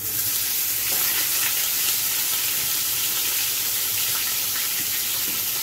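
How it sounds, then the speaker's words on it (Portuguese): Marinated pork chop frying in a pan, a dense, loud, steady sizzle heard up close throughout, with no speech. "E agora eu vou fritar ela."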